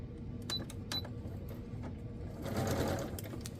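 A sewing machine stitching a dress seam with a 5/8 inch seam allowance, quiet rapid mechanical whirring that swells louder toward the end after a few faint clicks.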